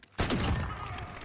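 Gunfire in a shooter video game, a burst of loud shots starting abruptly after a brief quiet moment and ringing on with a dense, sustained rumble.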